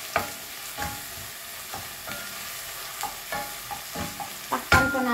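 Garlic and chili fry in a pan while a utensil stirs them, giving a steady sizzle broken by rhythmic scraping strokes, close up and without talk.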